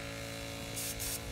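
Spray paint gun working on a 1982 box Chevy, with a steady buzzing hum of the equipment and two brief loud hissing bursts of spray near the end, close by.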